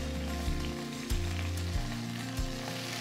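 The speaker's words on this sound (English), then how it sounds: "So in a second, ginger and spring onion into the oil." Ginger and spring onion sizzle steadily in hot oil in a wok for a soy-braised pork belly, a dense hissing crackle with a low rumbling hum underneath and a few brighter pops, close and unbroken.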